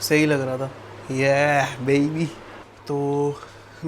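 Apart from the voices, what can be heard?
No everyday noises stand out.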